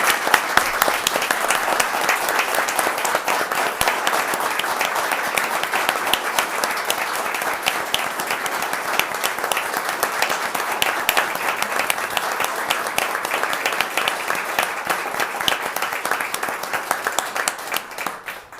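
A room of attendees at a town council meeting in Valdese applauds town staff, a steady dense clapping that holds evenly for the whole stretch without voices.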